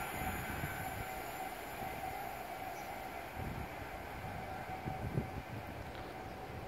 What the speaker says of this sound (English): Is a 390 Pendolino.